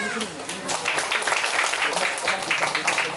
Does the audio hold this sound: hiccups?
no